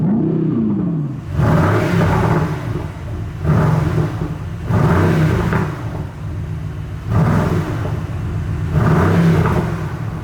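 A powerful Mercedes-AMG GT R Pro engine revs up close in race mode, rising and falling in four or five loud surges with a deep, growling rumble between them.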